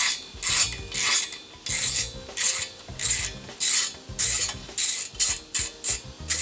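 A ratchet with an extension turns bumper bolts on an SDR PRO-R or TURBO-R front bumper, giving loud, close bursts of rapid clicking repeated in a steady back-and-forth rhythm.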